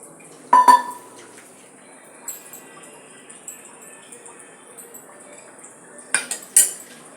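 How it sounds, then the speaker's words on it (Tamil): A mixie jar is rinsed in a kitchen while cooking a lunch of keerai kootu, sambar and rasam, giving a couple of clattering bursts of metal and water against the jar. Quiet handling fills the long gap between the two bursts. "ஸோ இந்த மிக்ஸி ஜாரையும் கொஞ்சம் அலம்பி நம்ம வந்து தண்ணியை சேர்த்து"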